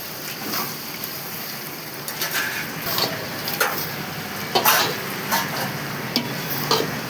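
A large pot of vegetable biryani mixture, a 4 kg wedding-size batch on a gas stove, stirred with a steady hiss of frying beneath intermittent scraping and knocking strokes, close and continuous, with no voices.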